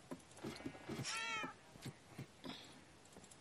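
A cat meows in the Minecraft video game, a single clear rising-and-falling meow in the middle of the clip, with scattered soft game clicks and footsteps around it.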